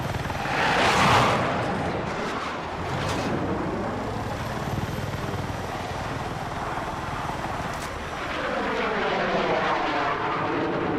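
An aircraft flies in Battlefield 6, its engine roaring loud and steady throughout, swelling near the start and again toward the end as it passes, with no talk over it.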